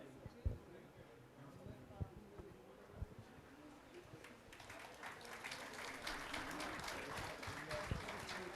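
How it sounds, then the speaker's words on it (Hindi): An audience at a Garhwali movie trailer and music launch claps for a guest. Scattered applause swells into fuller clapping partway through, while a voice talks over the start. "जोरदार तालियां सर के लिए"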